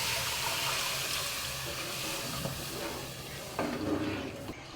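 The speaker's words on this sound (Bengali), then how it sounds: "দিয়ে দিলাম 1 লিটার দুধ।" One litre of milk pours into a pot of semolina, sugar and salt, a continuous liquid rush with a few soft clinks and splashes toward the end, close and fairly loud.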